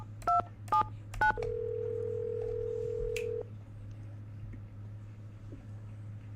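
A phone number is dialed in a Nancy Drew mystery game: three quick touch-tone beeps, then a steady tone held about two seconds before cutting off, leaving faint line hiss.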